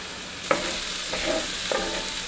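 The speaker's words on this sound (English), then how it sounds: "We're just about to the end of sauteing these veggies up" Peppers and onions saute in a pan for a tater tot casserole, a continuous frying hiss broken by three scraping stirs of a utensil, close and fairly loud, with no talking.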